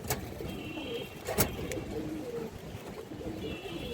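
Pigeons of an old line of red-tinted birds coo softly in a loft. Low, steady cooing runs under faint background noise, broken by a couple of sharp brief knocks.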